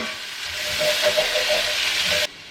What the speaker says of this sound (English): add that to the pan with that olive oil and saute all those for just a couple minutes